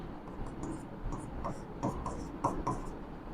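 Numbers written by hand with a pen on paper, close soft scratching strokes in short bursts over a faint room background.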